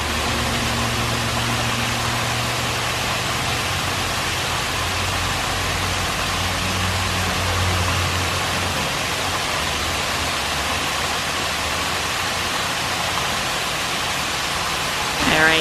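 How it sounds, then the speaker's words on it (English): A steady, broadband rush of water pouring over a mill spill dam, loud and unbroken throughout, with a faint low rumble beneath. "listen to the water coming over the spill dam"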